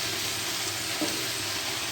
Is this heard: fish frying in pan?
yes